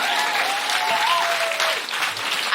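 A live podcast audience claps steadily for themselves, a thick, even wash of applause with a drawn-out whistle or whoop rising through it.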